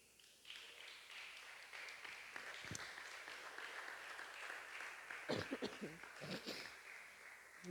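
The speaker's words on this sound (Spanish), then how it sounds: "Démosle un fuerte aplauso al Señor." Applause from a church congregation during a Bible class, a broad wash of clapping that starts abruptly and fills the room, mixed with scattered voices and louder individual claps toward the end.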